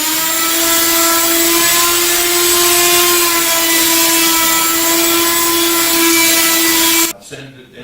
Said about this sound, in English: I'll go through different points on the wood, lift up any low spots, and then I'll begin the sanding